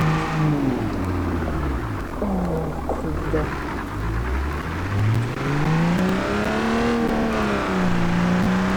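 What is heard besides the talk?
car driving and revving in BeamNG.drive video game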